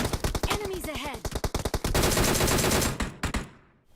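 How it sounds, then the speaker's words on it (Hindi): Rapid gunfire bursts from enemies in a first-person shooter match featuring a DP-28 light machine gun, dense overlapping shots cracking close and loud in quick clusters, then easing into a sustained roar before tailing off. "ये सारे बंदे मेरे पे ही गोली चला रहे हैं"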